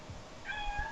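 A pet cat gives a single faint, thin meow, heard quietly in the background of a room during a radio-style talk show, with no one speaking over it.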